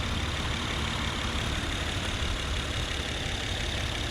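2016 Acura RDX six-cylinder engine idling, a steady, even low rumble heard close by for a few seconds, continuous and alone without talk.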